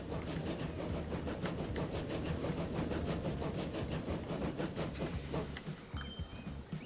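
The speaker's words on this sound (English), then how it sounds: "here comes the train" A train pulls into a station in the railway-building game Transport Fever 2, a steady rolling rumble with rhythmic wheel clatter and hiss, a brief high squeal of brakes near the end.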